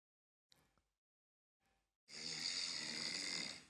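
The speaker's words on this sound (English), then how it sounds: "That was some serious jet lag snoring" Jet-lagged snoring during sleep: after a few faint murmurs, one long, loud, rasping snore rises abruptly and holds for about a second and a half before fading.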